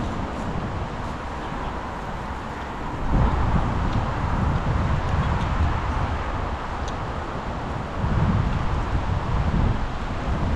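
Strong wind buffets the microphone outdoors on the way to a tilapia island, with a steady low rumble that surges in gusts; no voices are heard.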